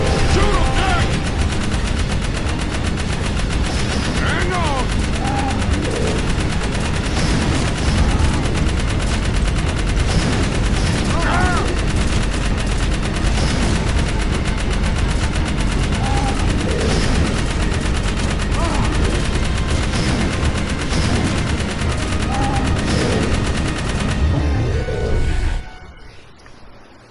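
Sustained rapid gunfire from the action video game Jak 3: dense machine-gun bursts and blasts hammer on loudly for nearly half a minute, with game voices mixed underneath, before cutting off abruptly at the end.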